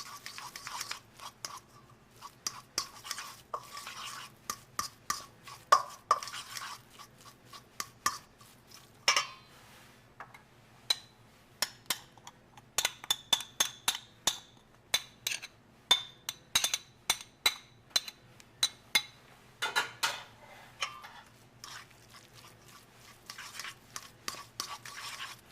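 A fork mashes and blends deviled egg filling in a bowl, giving quiet, irregular clicks and scrapes in quick bursts with short pauses, close up and without voices.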